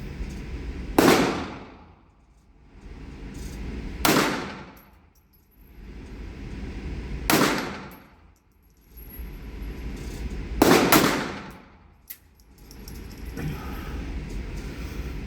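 A Dreyse Model 1907 pistol is fired outdoors, and each loud, sharp shot rings out and decays slowly. The shots come a few seconds apart, two of them close together near the end.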